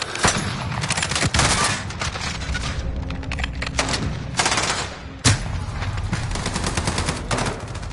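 Rapid automatic gunfire from a mounted gun in a first-person shooter, loud sustained bursts with a few heavy booming shots breaking through, no talk over it.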